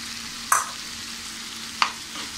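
Peas tossed into a pan of cooked-down tomato for a flower-potato-pea vegetable dish, with two brief stirring scrapes over a steady low frying hiss.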